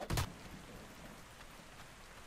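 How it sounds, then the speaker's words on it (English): Steady rainfall in the video game Ark Survival Ascended, a soft continuous hiss of raindrops after a brief louder burst at the start, with no talking. "Ooh, the rain."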